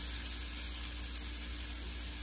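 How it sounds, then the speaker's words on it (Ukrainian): Steady sizzling of potatoes and onions frying in olive oil in a small pan, a constant hiss with no talking, close and moderately quiet throughout. "у пательничку буду вливати капельку столову ложку олії оливкової і буду давати сюди картопельку з цибулькою"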